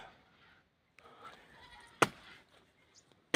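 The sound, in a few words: goats bleating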